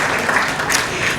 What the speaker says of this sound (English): Let's have a big round of applause for all the nominees for this evening.